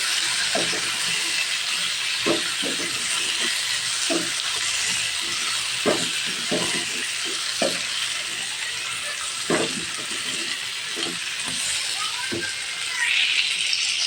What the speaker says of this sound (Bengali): এখন একটা আমি ভেজে নিচ্ছি।